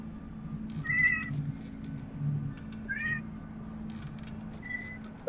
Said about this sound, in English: That was an actual cat.